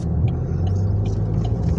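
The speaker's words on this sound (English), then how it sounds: "a lot of traffic coming in off the 143" Steady road traffic rumble heard from inside a car moving through heavy traffic coming off the 143, a continuous low engine and tire drone with no speech.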